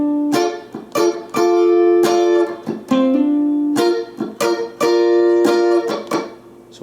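Two guitar chords from a pop song played back to back several times with a hammer-on, each strum ringing out clearly and alone with no talking.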